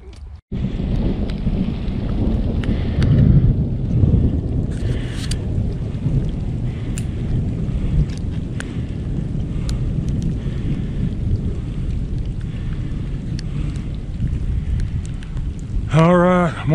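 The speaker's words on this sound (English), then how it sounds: "We're out here trying to beat this storm this morning." Thunderstorm on a morning out by a beaver lodge, with dense rain and rumbling thunder forming a loud, continuous wash from start to finish, plus a short sharper sound at the very end.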